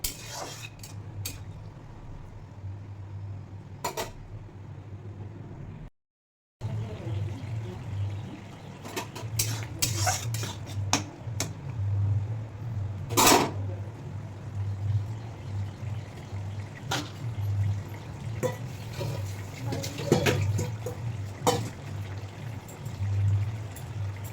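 Vegetable curry of water lily stems with fried prawns, slit green chillies and a little water simmers in a pan, giving a steady close bubbling hiss with scattered soft clinks and no talking.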